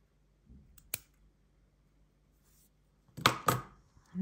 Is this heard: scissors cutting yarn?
yes